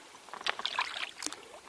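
Canoe paddle dipping and stroking through calm water during a relaxing wilderness paddle, a brief close splash and trickle of drips, faint and without talk.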